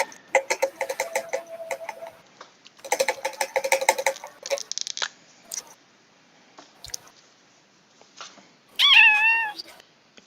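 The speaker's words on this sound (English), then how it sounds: "How old's your cat, Mark?" A cat about two years old gives one clear, rising-and-falling meow near the end, loud and close, after scattered softer rustling and household sounds.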